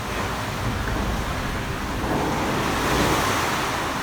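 Rushing floodwater during Typhoon Ursula in the Philippines, a dense, steady roar like surf with wind noise, loud and continuous before dawn with no talking.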